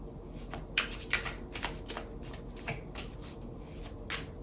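Tarot cards being shuffled and cut, a run of crisp riffling and flicking bursts with a few sharper snaps, close and fairly quiet with no talking.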